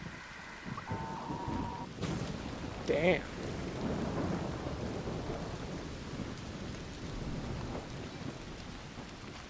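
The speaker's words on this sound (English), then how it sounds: "The rain sounds heavy." Heavy rain pours steadily with thunder rumbling through a raging storm in the video game Arc Raiders, with a sharp crack near the start and a brief muttered voice over the downpour.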